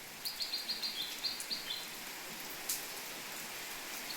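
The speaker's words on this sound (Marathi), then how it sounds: "सर्वीकडे होतो पाऊस सारा." Rain falls steadily as a constant soft hiss, while a bird chirps in a quick run of repeated notes near the start.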